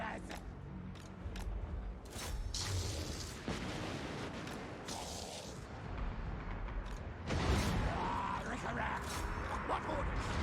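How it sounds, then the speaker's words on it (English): Skaven Doom Wheels of Clan Skryre crash into archers in Total War: Warhammer 2, a chaotic battle din of explosive bursts, pops and booms with a louder surge near the end, plus scattered unit shouts. "my Doom Wheels go and destroy their archers"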